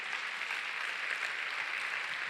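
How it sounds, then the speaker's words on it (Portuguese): Congregation applause in a church, steady dense clapping that holds at an even level throughout, fairly distant and without any voices standing out. "Palmas ao Senhor, em nome de Jesus."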